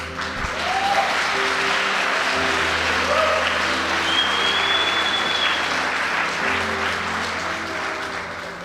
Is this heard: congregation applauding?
yes